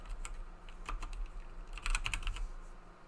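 Close-up typing on a computer keyboard, light irregular clicks in short bursts with a cluster of quicker keystrokes midway, quiet and alone with no voices.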